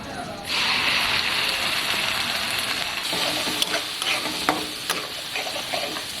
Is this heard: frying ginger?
yes